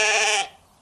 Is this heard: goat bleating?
yes